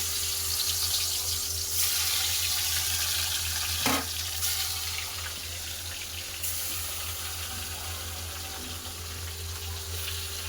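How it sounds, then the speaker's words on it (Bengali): Fish fries in hot mustard oil in a kadai, giving a steady close-up sizzle with light crackling and a couple of brief clinks or stirs along the way. "তেল গরম হয়ে গেছে আবার মাছ ভেজে নেব"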